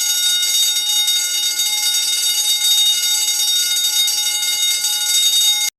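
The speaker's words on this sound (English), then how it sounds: "Second is for fire alarm." A fire alarm bell rings continuously at a steady, loud level, its harsh metallic clanging unbroken from start to finish with no voices.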